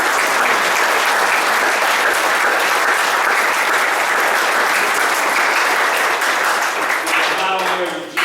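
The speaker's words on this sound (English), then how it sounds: "that deserves a big round of applause" An audience at a Middletown Township Committee meeting breaks into loud, sustained applause for newly crowned champions, steady dense clapping filling the room for about seven seconds before tapering off.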